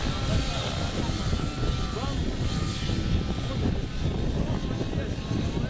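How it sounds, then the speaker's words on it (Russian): A steady, loud engine roar with rotor-like rumble from a helicopter flying overhead at an outdoor flying event in Siberia fills the whole stretch, continuous and unchanging, with faint voices underneath. "Опять вертолет Дмитрия Грудецкого в небе."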